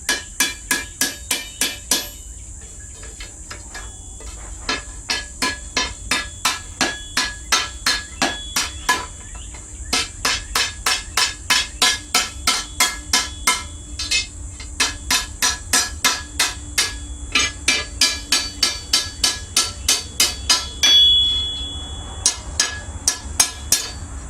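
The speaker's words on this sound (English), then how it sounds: "After you scar it up with that chisel, you should be able to break it fairly easy." A hammer strikes a chisel to score a steel sword blade for breaking, delivering long runs of fast, ringing metallic blows that are loud and close, with brief pauses between bursts and no voices.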